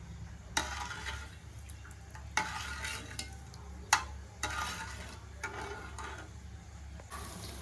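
Sugared water bubbles and churns at a rolling boil in a pot for bread halwa, in uneven bursts, with an occasional clink of a utensil.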